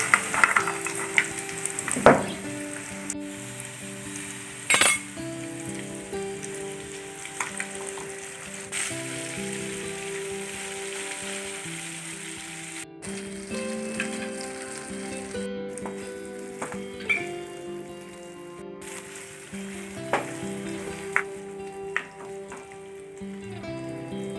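Chicken fries in coconut oil with a steady sizzle and bubbling crackle, close and continuous, with occasional clinks and stirring knocks over a background of music.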